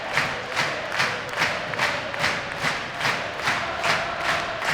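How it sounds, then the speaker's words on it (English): Ice hockey crowd at a Sheffield Steelers home game against the Belfast Giants, a loud sustained roar with rhythmic chanting swells and pounding beats repeating about every half second, broad and arena-filling, no commentary over it. "Steelers crowd trying to lift their team."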